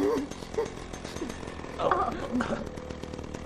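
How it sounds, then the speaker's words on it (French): A chainsaw runs steadily with a harsh buzzing drone throughout, while a voice briefly exclaims over it. "c'est une vraie tronçonneuse"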